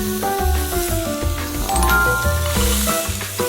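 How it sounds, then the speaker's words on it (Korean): Dried shrimp stir-frying in a pan, with a loud, steady sizzle close by and the scrape and shuffle of stirring, alone without talk. "이제 건새우를 넣을 거예요."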